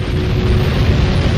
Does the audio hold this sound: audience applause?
no